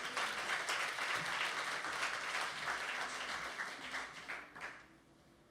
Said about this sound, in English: So can we all give a round of applause to Derek Schulte,